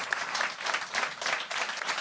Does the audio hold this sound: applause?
yes